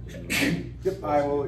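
One short sneeze bursts out indoors in a classroom, followed at once by a nearby voice speaking.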